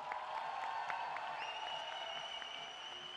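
Steady applause from an audience at a French festival gathering, dense and continuous at moderate distance, with a few sharper claps standing out and a faint sustained tone running underneath.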